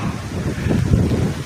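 Steady wind buffets the microphone on a farm field, a low, rumbling roar that swells and eases throughout.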